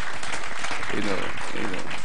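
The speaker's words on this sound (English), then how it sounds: "Let's give them a round of applause again." Audience applause at an empowerment summit: a continuous wash of clapping with a voice briefly audible beneath it.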